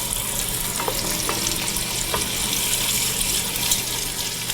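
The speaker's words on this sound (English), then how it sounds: "make sure you saute that real good with the bacon until the onion is soft and the bacon is browned completely" Chopped onion and bacon saute in a pan for greens, a loud, even, hissing sizzle that holds steady from start to finish with a few faint stirring taps.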